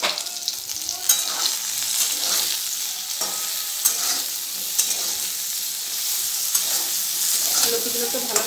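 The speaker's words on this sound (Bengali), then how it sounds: "লতিগুলো তো ভালো করে ভেজে ভেজে নেব" Taro stolons (lati) tempered with chopped garlic and black cumin being stirred and fried in oil, a continuous close sizzle punctuated by repeated scraping stirs, with no voices.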